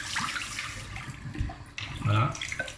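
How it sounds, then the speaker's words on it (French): A glass jar rinsed under a running kitchen tap, water splashing and pouring steadily for a few seconds with a brief louder gush near the end, a voice speaking softly over it. "À l'eau du robinet"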